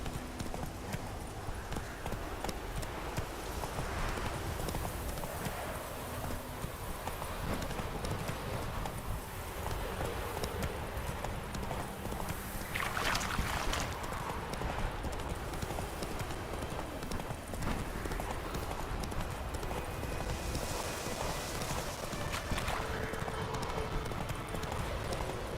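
Roach the horse galloping in The Witcher 3, a steady rhythmic clip-clop of hooves under a dense game soundscape, continuous and fairly close, with a faint voice now and then.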